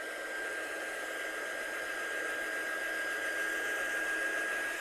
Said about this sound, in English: I'll give it a quick blast off with a heat gun just to make sure that they're all dry.